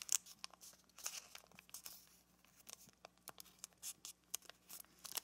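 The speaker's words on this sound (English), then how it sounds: "And now let's fold this flap up so that this corner goes to this corner." Paper is folded and creased for an origami eight-point star belt buckle, giving quiet, close crinkles and sharp little crackles in an irregular run with no voices.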